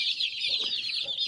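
Young ornamental chickens cluck in short soft bursts against a constant high chirping from the flock, close and fairly loud, with no talking.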